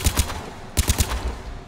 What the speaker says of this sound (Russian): Он стреляет очередями.